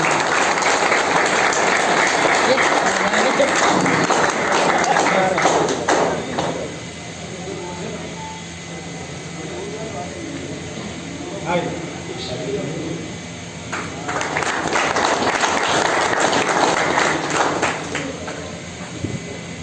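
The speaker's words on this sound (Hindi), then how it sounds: "तो खास इनके लिए जोरदार तालियां हो जाए।" Audience applause breaks out at a pigeon racing league prize distribution function in Latur, loud clapping that fades into talk and murmurs midway, then returns strongly near the end.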